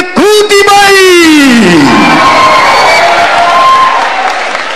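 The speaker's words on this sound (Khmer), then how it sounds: "សូមផ្ដល់ការអបអរសាទរខ្លាំងៗដល់អ្នកទាំងអស់គ្នាដើម្បីលើកទឹកចិត្តដល់កីឡាករប្រជាជាតិនៃកម្ព" An indoor crowd at an international MMA fight in Cambodia cheers and applauds. The cheering stays steady underneath a loud, amplified announcer who speaks throughout.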